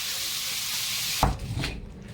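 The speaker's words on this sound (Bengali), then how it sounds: "এই তো আমাদের হচ্ছে ফায়ার মাছ ভাজা হচ্ছে, ফায়ার মাছ" Fish frying over a high, flaming fire gives a loud continuous sizzle and hiss that cuts off abruptly into a few clattering knocks and quieter spitting.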